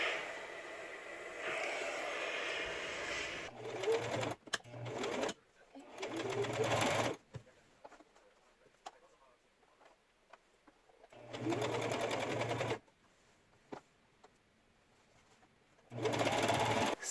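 Sewing machine understitching the neckline of a rainbow ruffled kaftan, running in several loud bursts of steady whirring separated by quieter pauses with faint handling noise.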